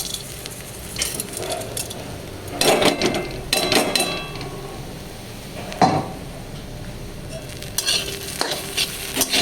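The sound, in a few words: lentil dumplings (bori) frying with papaya, mustard seeds, dried chilli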